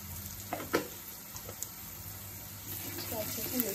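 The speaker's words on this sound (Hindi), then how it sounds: "सूखा मसाला पहले अच्छे से मिक्स कर लेंगे" Dry spices including chili powder and coriander-cumin powder are stirred into a drumstick and potato curry frying in a pan: a soft sizzle with a few spoon knocks, a voice talking over it.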